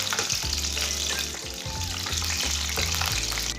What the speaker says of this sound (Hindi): ऐसे ही मिक्स करते हुए फ्राई करना है इसे हल्की आंच पर।